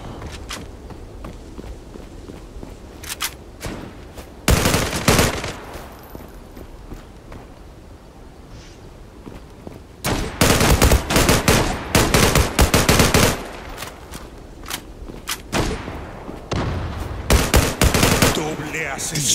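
Gunfire in the PC shooter Zula, with bursts of rapid automatic fire in several loud clusters separated by quieter stretches of footsteps and movement, and no talking over it.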